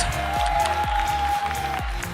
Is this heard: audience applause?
yes